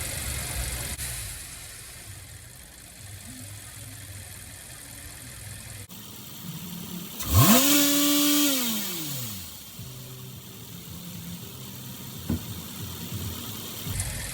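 Chevrolet Camaro SS engine idling during a DIY air-conditioning recharge, a low steady hum with a rising and falling whine that surges loudly for a couple of seconds midway before settling back to a quiet idle.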